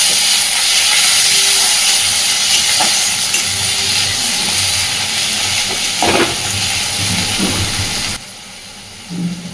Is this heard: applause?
no